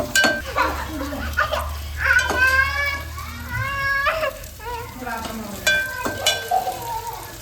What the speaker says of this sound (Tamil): இப்போ வந்து இஞ்சி பூண்டை இடிச்சு வச்சு போட்டுக்கலாம் பாருங்க.